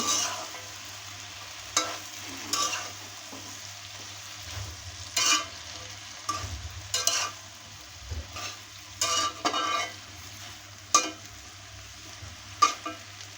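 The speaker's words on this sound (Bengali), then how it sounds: "তো এখন আমি এটাকে নাড়াচাড়া করব।" Malabar spinach with prawns is stirred in a frying pan, a low sizzle under repeated sharp scrapes and clanks of a spatula against the metal, coming in irregular bursts.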